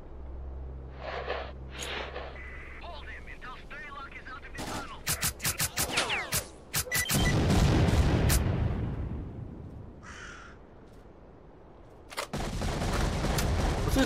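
Gunfire and explosions in the shooter game S.T.A.L.K.E.R. Clear Sky: rapid bursts of shots, then a loud rumbling blast that swells and decays, followed by more sharp volleys, mostly without talk.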